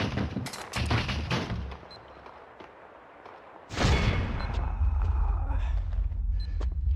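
Video game gunfire with bursts of sharp shots early, then a sudden loud blast and a sustained roar of fire and rumble that continues to the end; no one talks.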